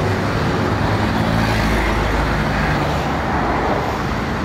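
Highway traffic roars past in a dense, loud, continuous stream, cars, buses and trucks blending into a steady close rumble with no pause.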